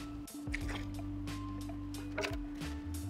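Tap water runs into a one-gallon plastic pitcher, filling it toward the three-quart mark, a close, steady gurgling stream with small splashes over a constant low electrical hum.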